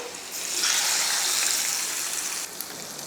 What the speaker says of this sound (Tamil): இப்போ தயிர் சாதத்தில் ஊற்றிடலாம்.